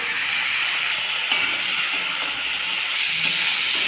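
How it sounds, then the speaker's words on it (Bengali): Steady, loud sizzling and hissing of beetroot, carrot and potato frying in a wok, with occasional scraping stirs, no voices. "খুব ভালো করে নাড়াচাড়া করে সবজি ভেজে নেব।"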